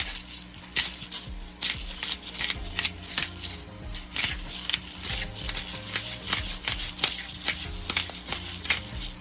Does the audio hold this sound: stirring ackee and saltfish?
yes